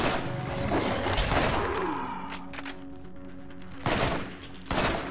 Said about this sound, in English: Yep, burst fire weapon.